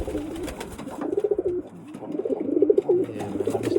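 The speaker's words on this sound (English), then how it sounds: "I went ahead and added this little nice bird right here. Nice roller." A roller pigeon coos in a series of soft, low, throaty bursts close by, repeating irregularly over a few seconds with no talk.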